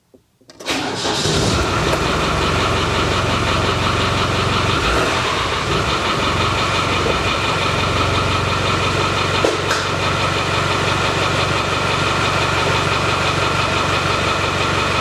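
A Land Rover 300TDI diesel engine on a vehicle named Beryl cranks briefly, catches, and settles into a loud, steady, clattering idle that holds unbroken to the end.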